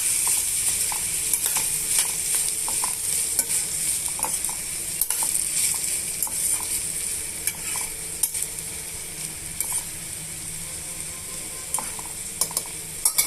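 Ivy gourd pieces frying in hot tempering spices in a pan, a steady bright sizzle with frequent scrapes and clinks of a stirring spoon against the metal, close and loud throughout.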